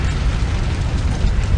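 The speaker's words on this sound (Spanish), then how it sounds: "Las explosiones se hacen notar enseguida." Burning fireships packed with gunpowder, splinters and shrapnel explode near the Spanish Armada fleet, a loud, continuous roar of heavy blasts and crackling that fills the whole moment.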